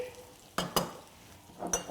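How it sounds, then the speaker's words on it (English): Chicken sizzles faintly in a frying pan while a utensil scrapes and stirs a few times, quiet and close, with a soft steady crackle underneath. "So we wait for the chicken to sizzle."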